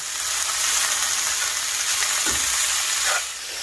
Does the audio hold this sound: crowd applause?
no